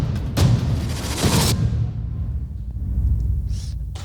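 A sampled percussion pattern plays two heavy, booming hits about a second apart, followed by a long rumbling low decay with faint higher rustles, loud and without voices.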